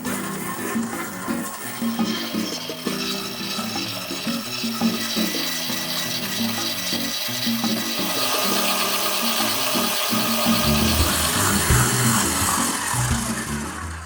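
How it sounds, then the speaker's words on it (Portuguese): A stand mixer beats butter with brown sugar, giving a steady, dense whirring and scraping drone that grows slightly louder and brighter toward the end, with no talking. "Aqui eu vou bater até conseguir uma consistência airada, fofa e um pouco mais esbranquiçada."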